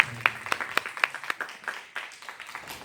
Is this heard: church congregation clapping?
yes